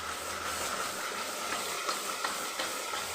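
Curry masala for doi begun bubbles and hisses steadily in a pan, a constant close sizzle with faint pops and no voices.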